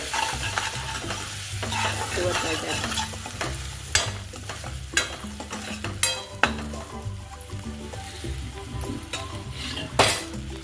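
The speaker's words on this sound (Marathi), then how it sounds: "हळद, चटणी, चवीनुसार मीठ घालून एकत्र मिक्स करून घेऊ" Turmeric, chutney, salt and curry leaves are stirred into a hot pan for ola kaju aamti, giving steady scraping and stirring with a light sizzle and occasional sharp clinks of a spoon against the pan, with no talking.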